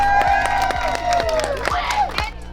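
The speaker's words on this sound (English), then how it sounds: "Okay, Stella, we all get a clap for you." Crowd of children cheering, whooping and clapping at a preschool graduation, lively and close with rhythmic claps under excited shouts and voices.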